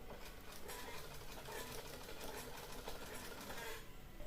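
A sewing machine runs steadily while stitching blouse fabric, a continuous whirring chatter lasting a few seconds, faint and unaccompanied by speech.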